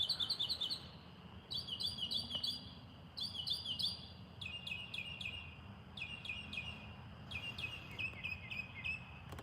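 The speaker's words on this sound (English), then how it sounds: "I think that bird's singing to me." Several birds sing in repeated bright chirping phrases outdoors, steady through the clip over a low background hum, with no talking.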